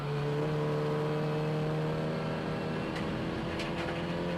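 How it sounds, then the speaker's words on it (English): A racing car engine droning at high revs during a race at Brands Hatch, a sustained steady whine that holds and shifts slightly in pitch, with no voices. "lets the revs come up"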